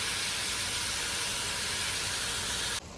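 Curry stewed vegetables cook in a pot, giving a steady broadband steamy hiss and sizzle that holds evenly for about three seconds before cutting off abruptly, with no talking.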